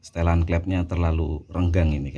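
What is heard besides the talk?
No everyday noise stands out behind the speech.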